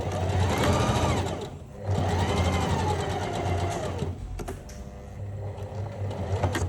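A sewing machine runs in fast continuous bursts stitching skirt pleats, loud and close, pausing briefly between runs, with no talking.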